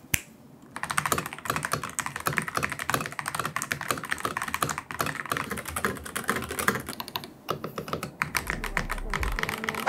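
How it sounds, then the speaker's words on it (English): Typing on a chunky computer keyboard produces rapid, dense, close-up key clacks in an uneven rhythm that continue through most of the clip, with a short pause near the middle. "this is one chunky little keyboard"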